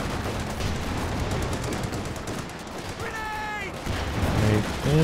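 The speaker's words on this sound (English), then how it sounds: "Switching back to high explosive rounds now that the Panzer IV is forced off." A tank fires high explosive rounds in a Company of Heroes 2 battle, its shots mixed with machine-gun fire and sharp impacts. Brief voices are heard near the end.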